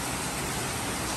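Heavy rain shower pouring steadily in Lapu-Lapu City, Cebu, a dense, continuous wash of close, loud hiss with no voices.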